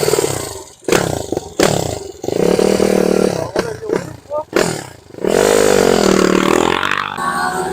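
A YCF Mini GP motorcycle with a new 400 engine revs in rising and falling bursts, loud and close, with sharp throttle blips and a sustained high-pitched whine toward the end.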